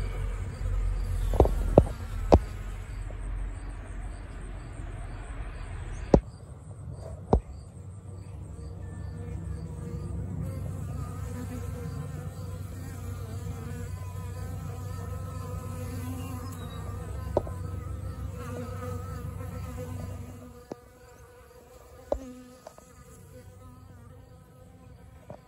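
Bees and a single wasp, a Germanica wasp, give a continuous close buzzing drone that holds steady for about twenty seconds before fading, broken by a few sharp clicks and taps.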